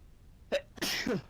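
One person sneezes nearby in a room during a casual podcast chat: a short sharp intake, then a loud explosive burst with a trailing voiced tail, standing alone without other talk.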